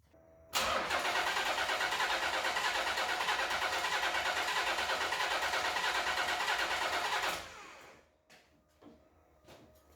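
A Nissan VG33 engine with its throttle body propped open cranks steadily for about seven seconds during a compression test, a loud, even, rhythmic churning that stops abruptly. A few faint clicks follow.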